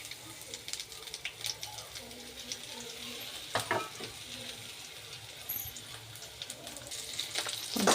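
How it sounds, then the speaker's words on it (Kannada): Chopped masala ingredients fry in a little oil in a pan, giving a steady low crackle with occasional louder scrapes and stirring clatters, heard up close. "ಇದು ಕಟ್ ಮಾಡ್ಕೊಂಡಿರೋ ಮಸಾಲೆ ಐಟಮ್ ಎಲ್ಲ ಹುರಿಯೋಕೆ ಹಾಕಿದ್ದೀನಿ."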